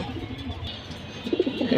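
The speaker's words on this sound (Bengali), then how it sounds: "এক জোড়া অ্যালমোনিয়াম কবুতরের বাচ্চা" A pair of young Almonium pigeons cooing softly and close by, with low throaty coos growing fuller toward the end, alone without speech.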